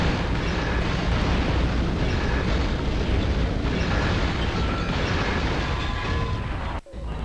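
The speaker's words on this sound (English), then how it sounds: "Well, I can watch it explode." An explosion in the Metal Arms: Glitch in the System game, a loud, sustained roaring blast that fills the whole clip and cuts off sharply near the end.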